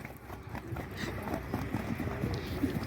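Several marcha batida gaited horses clip-clop steadily, their hoofbeats a quick even rhythm over ground noise, at moderate distance with a faint voice in the background.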